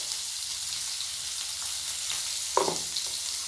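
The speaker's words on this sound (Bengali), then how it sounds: "আমি বেশ কিছুক্ষণ কষিয়ে নেব" Spices sauté in a pan with a continuous close sizzle and a few soft stirring scrapes, one sharper clatter near the end, and no talking.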